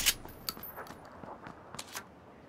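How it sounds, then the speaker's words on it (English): Shotgun and Winchester rifle fire in PUBG, a sharp close blast followed by a scattered series of lighter shots and clicks at irregular intervals. "The shotgun and a Winchester."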